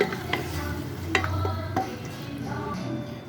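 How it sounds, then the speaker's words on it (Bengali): Pieces of beef are stirred and mixed in hot oil in a pan for a tomato beef curry, giving a close, steady sizzle with a few distinct scraping knocks as the meat is turned. "মাংসটা দিয়ে দিয়েছি। এখন এটাকে সুন্দর করে মিক্সড করে নিতে হবে।"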